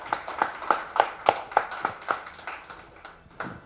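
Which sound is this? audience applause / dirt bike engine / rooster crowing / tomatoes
audience applause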